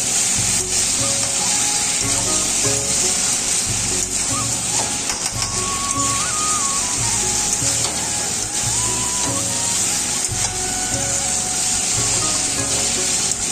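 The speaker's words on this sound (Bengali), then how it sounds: "ভেজে রাখা আলুগুলো দিয়ে দিচ্ছি। টমেটো কুচি, এগুলোকে মশলার সাথে মিশিয়ে নিচ্ছি।" Fried potatoes and chopped tomato are sautéed with spices for a picnic mutton dish, making a loud, dense, steady sizzle up close with occasional scraping and stirring, and no speech.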